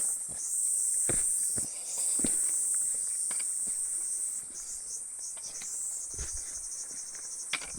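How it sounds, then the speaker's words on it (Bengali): Crickets chirp in a continuous high, shrill drone along a quiet mountain trail at night, while nearby footsteps crunch and scuff at irregular intervals underneath. "সুন্দর ঝিঝি পোকা ডাকছে।"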